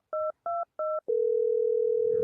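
Landline telephone being dialed, three short evenly spaced dialing beeps, then a steady continuous tone, clear and close with no talking.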